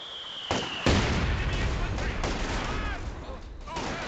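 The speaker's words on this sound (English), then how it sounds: "Another grenade out." Grenade blasts and gunfire in a video game match: a sharp bang lands early, followed by a heavier explosion and a chaotic run of crackling shots and further booms, with a voice talking over the action.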